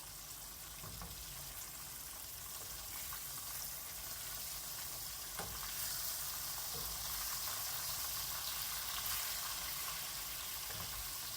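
A batch of steak frying in a pan gives a steady, fairly quiet sizzling hiss with a few faint pops, continuous and without speech.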